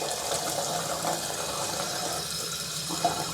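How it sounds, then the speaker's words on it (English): Tap water running steadily into a sink during a foaming sugar scrub recipe, a constant close hiss and splash with a faint clink near the end, no talk. "I'm going to get our water on."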